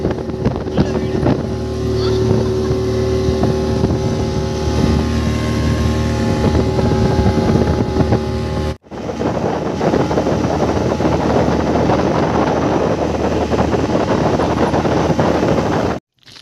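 A small tourist motorboat carrying four people on a lake, its engine droning steadily and loudly close by with wind buffeting, briefly cutting out midway before resuming.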